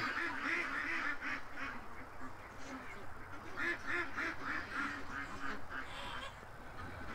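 A flock of ducks quacks steadily in a muddy yard. The rhythmic calls overlap and carry on without a break at moderate distance.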